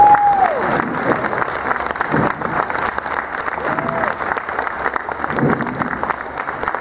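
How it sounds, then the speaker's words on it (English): An audience at a horse show claps steadily while someone talks over the applause, the clapping dense and continuous at moderate distance. "They're not clapping for you, darling."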